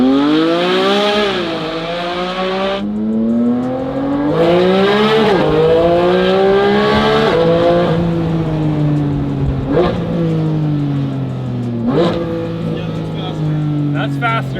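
A Porsche GT4RS fitted with a Fabspeed aftermarket exhaust revs repeatedly while driving, its loud engine rising and falling through several sharp pulls and shifts, close and dominant.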